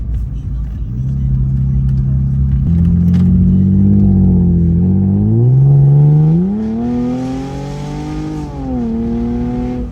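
A Mercedes SLK 350 V6 engine revs up loudly with a rising, throaty tone, climbing through the gears before easing off, close and continuous.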